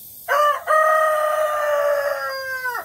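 A white rooster crows close and loud in a backyard chicken yard, one long sustained cock-a-doodle-doo with a brief break near the start, nearly alone with no talk.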